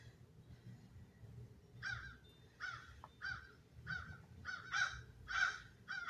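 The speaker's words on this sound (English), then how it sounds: "You hear birds and crows and everything all around me" Crows cawing outdoors in Florida in December, a series of about eight distinct caws in an irregular rhythm from a short distance over a faint outdoor background.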